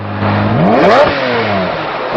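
Lamborghini 6.5 litre V12 engine with 48 valves and 650 horsepower, revving once: it climbs sharply to a loud peak, then falls back. Close and loud, with no talking.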